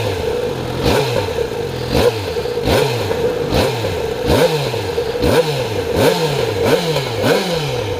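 A 2015 Yamaha XJ6 SP 600cc motorcycle engine on its first start, revved close up in a steady series of about eight sharp throttle blips, roughly one per second, over a continuous idle.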